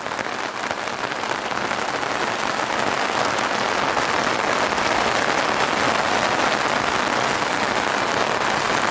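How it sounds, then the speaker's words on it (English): Heavy rain pours down steadily on an awning in Wyoming, a dense, loud hiss of drops drumming on the surface without letup. "Rain's coming down real strong now."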